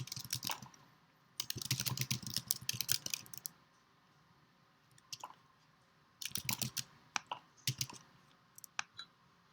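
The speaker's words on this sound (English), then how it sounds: "And I'll type that in the comment here." Quiet bursts of keyboard typing on a computer, clusters of soft close key clicks separated by short pauses, no talking.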